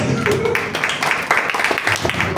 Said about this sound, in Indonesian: Tidak Ya ada tepuk tangan, tidak apa-apa.